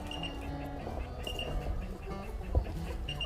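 Chickens cluck softly inside a chicken coop, with scattered close clucks and calls over a low background rumble.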